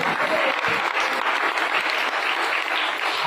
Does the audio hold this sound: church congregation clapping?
yes